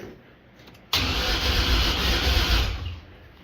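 A supercharged 3800 V6 swapped into a Nissan 240SX S13 cranks and catches at about one second, then runs loud and steady with a deep rumble for roughly two seconds before settling slightly, close to the microphone.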